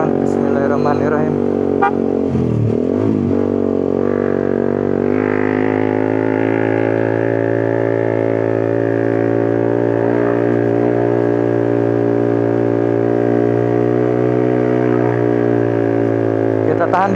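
Motorcycle engine held steadily at high revs around 7,000 RPM while climbing a steep, high road on a solo tour, a loud continuous drone with a brief dip and rise early on, someone talking over it.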